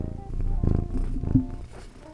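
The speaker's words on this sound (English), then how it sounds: "Do you wanna purr into the microphone, Foxy?" Foxy the cat purrs right up against a microphone, a close, low, rumbling purr in short pulsing bursts lasting a couple of seconds.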